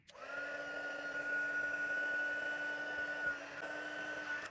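A heat tool blows hot air to melt white embossing powder on a gingerbread card, a steady close whirring hum with a high whine lasting the whole stretch, with no voices.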